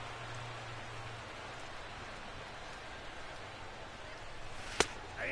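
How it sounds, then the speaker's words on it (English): Steady rain falls over a baseball stadium in the MLB The Show video game, a soft continuous hiss that holds throughout, broken near the end by one sharp crack. "The rain, as we've mentioned, coming down fairly steadily here at game time."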